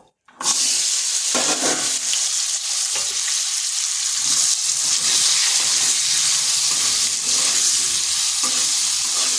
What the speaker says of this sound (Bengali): প্রথমে আলুগুলোকে হালকা করে ভেজে নেব